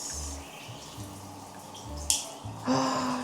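Water runs from a newly installed tap, first as a faint trickle and then as a louder, fuller splash toward the end, heard up close in a quiet room with no talking.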